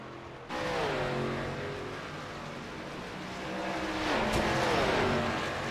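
Race cars roaring at speed around the Homestead Miami oval, engines screaming loud and close with rising and falling pitch as cars sweep past, continuous and dense throughout.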